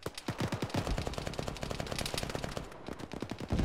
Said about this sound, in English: That's a friendly gun.